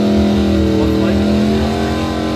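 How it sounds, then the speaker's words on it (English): A Red Baron dragster engine revs loudly and steadily at a drag race, its rough throbbing roar filling the whole moment while an announcer talks over it. "Brad Harris, the dragster out of B6, the Red Baron machine."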